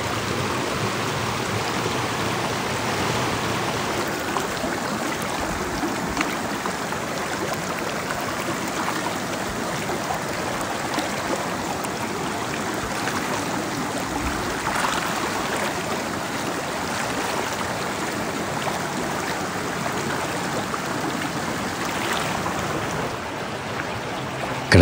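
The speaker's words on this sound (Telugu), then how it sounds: "రోడ్ సైడ్ ఉన్న ఒక చిన్న కాలువ దగ్గర నేను చాలాసేపు అయిపోయా" A small roadside stream in the Odisha hills flows with a steady, even watery rush that stays constant and close throughout, with no voices present.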